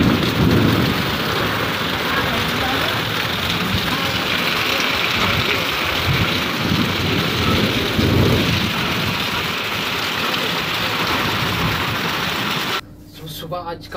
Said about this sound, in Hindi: देखिए कितना बारिश हो रहा है डूमर में,